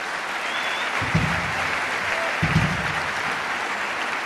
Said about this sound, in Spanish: un aplauso para don Carlos Donoso